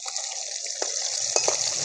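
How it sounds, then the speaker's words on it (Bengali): Catla fish pieces frying lightly in a pan, a soft steady sizzle with a few faint clicks and pops, brief and fairly quiet with no voices. "আমাদের হালকা ভাজতে হবে মাছটা।"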